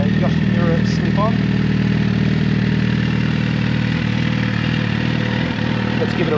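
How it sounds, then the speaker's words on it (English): A Suzuki GSXR 1000 with a Yoshimura slip-on exhaust and a fender eliminator idles close by with a loud, even, throbbing burble, while a voice talks over it. "as you can hear, it's got a pretty nice note to it with that Yoshimura slip-on"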